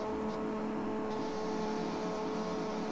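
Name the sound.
motocross bikes revving at race start, video game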